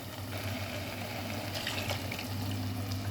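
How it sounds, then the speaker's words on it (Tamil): Tamarind water pours into a Tamil pirandai kara kuzhambu curry, a soft, steady liquid splashing and gurgling close by with a low hum underneath, faint overall and with no talking. "இப்போ புளி கரைச்சலை ஊற்றிடலாம்"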